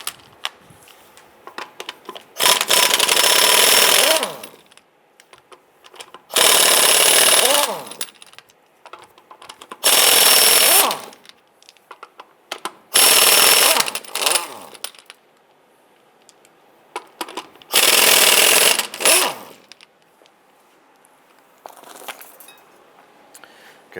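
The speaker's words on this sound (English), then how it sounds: "Using your 19mm socket, go ahead and loosen and remove the nuts" A power tool spins the wheel lug nuts loose and off on a 1995-2001 Ford Explorer with a 19mm socket, giving five loud, close bursts of whirring rattle separated by quiet pauses and faint clinks.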